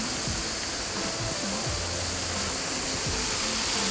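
Steady, dense rush of falling water fills the whole clip, a constant broadband roar with no voices, like standing close to a waterfall.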